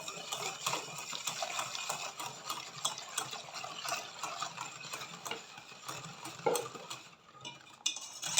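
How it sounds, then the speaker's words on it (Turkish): Milk being stirred into starch in a pot for a pastry cream, a steady run of scraping and swishing utensil strokes against the pot, close and fairly busy with no talk. "Üzerine 3 su bardağı sütümü ilave ediyorum. Bir taraftan da karıştırıyorum nişastamın topaklanmaması için."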